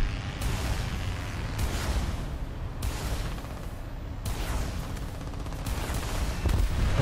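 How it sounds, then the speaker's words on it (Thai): Tail gunner machine gun fire in War Thunder, with an Alpha Jet under attack, comes as dense continuous rattling bursts mixed with booming gunfire that stays loud through the whole stretch, with no talk. "คนปืนท้ายยิงเจ็บอยู่ครับ"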